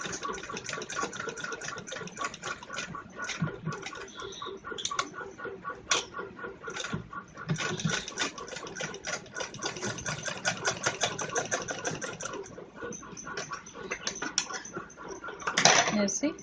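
A sewing machine runs in rapid stitching bursts through fur cloth while a bag with a zip is sewn at home, its steady mechanical chatter continuing under a voice speaking Hindi.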